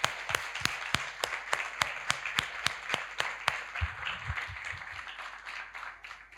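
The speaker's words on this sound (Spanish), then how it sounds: "Así que tal si todos le dan un aplauso a los matrimonios." A congregation at an evening Christian service applauds married couples. Distinct sharp claps come at a fairly even rhythm, moderately close, and thin out toward the end while faint murmuring continues.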